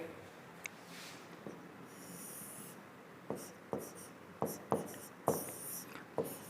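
Pen scratching out notes on paper during a soil science lesson, a series of short faint strokes with brief pauses, quiet and close with no voice.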